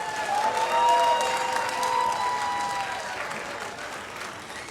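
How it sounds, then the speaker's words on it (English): An audience at a high school senior awards night gives a final round of applause, strong at first and gradually tapering, with a few whistles or cheers riding above the clapping. "Let's give them one final round of applause."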